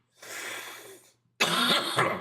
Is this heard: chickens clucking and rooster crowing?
no